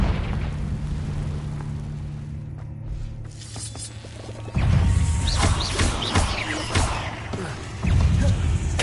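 A Confringo blasting spell in Hogwarts Legacy sets off crashing explosions: a steady low rumble, then a loud sudden blast with debris-like crackles and another heavy burst shortly after.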